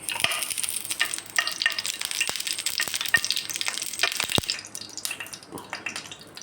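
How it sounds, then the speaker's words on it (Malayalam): About two spoons of ghee heat in a pan on the stove, giving a steady bright sizzle and crackle with scattered light clinks. It is fairly close, with no talking. "ഒരു പാൻ അടുപ്പത്ത് വെച്ച് നമുക്ക് 2 സ്പൂൺ നെയ്യ് ഒഴിച്ചു കൊടുക്കാം."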